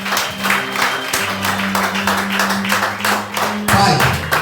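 A congregation claps during a Brazilian hereditary-curse breaking prayer service, rhythmic hand claps layered over sustained music or singing, loud and continuous.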